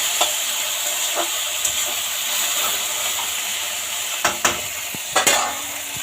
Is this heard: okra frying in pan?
yes